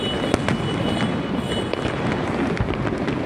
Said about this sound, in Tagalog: Lakas ng paputok nun.